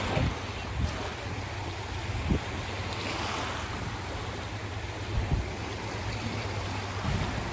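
Broadband surf washing onto a beach on a fine day, a steady rush of breaking waves with light wind buffeting the microphone and a few soft thumps, continuous and moderately close, with no one talking.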